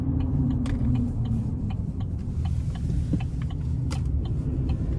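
Engine of a 2024 Chevrolet Silverado Custom Trail Boss with the turbocharged TurboMax engine under throttle, a steady low rumble heard from inside the cab, with faint clicks and ticks over it.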